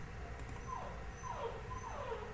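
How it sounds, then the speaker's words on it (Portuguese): A dog whimpers and yips in short, high, wavering cries, faint and somewhat distant over a steady background hiss, with no speech. "Esse cachorro tá terrível."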